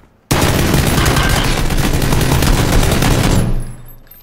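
Gunfire in the battle royale game PUBG: a sudden loud, sustained burst of rapid automatic shots starts abruptly and rattles continuously for about three seconds before cutting off into a fading tail.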